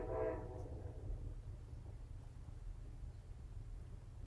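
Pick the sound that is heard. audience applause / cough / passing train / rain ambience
passing train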